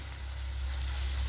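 Onion and ginger fry in coconut oil in a pan for a Kerala puli inchi, giving a steady close sizzle with a low hum beneath, brief and uninterrupted by voices.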